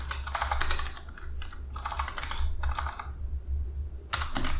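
A terminal command being typed on a computer keyboard: rapid clusters of close keystrokes broken by short pauses.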